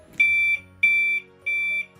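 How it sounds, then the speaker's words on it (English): Bed pressure mat fall alarm beeping three times in a steady rhythm, each beep a clear, close, sustained high electronic tone lasting about a third of a second. "So you heard the beep beep, and then once I remove pressure, it's going to alarm"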